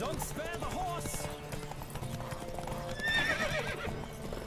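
Horse hooves clip-clop at a steady gallop with a sharp whinny and neigh in The Witcher video game, set under busy game audio and background voices.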